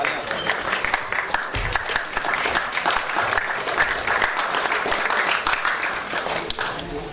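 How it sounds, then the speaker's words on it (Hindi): Audience clapping at a theater festival awards distribution, a lively, steady round of applause with sharp individual claps standing out and some voices underneath. "प्लीज जोरदार तालियां."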